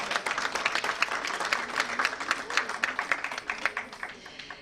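An audience at a Greek UNESCO-group event on ADHD applauds, with steady, dense clapping that holds for several seconds and then thins out.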